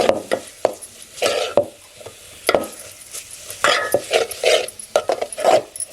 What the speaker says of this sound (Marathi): चिकन ॲड करून घ्या.